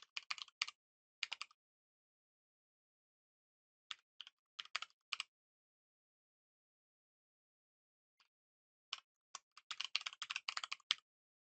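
Computer keyboard typing programming code in bursts of rapid clicking separated by silent pauses, with a longer dense flurry at the end, close and crisp, no talking.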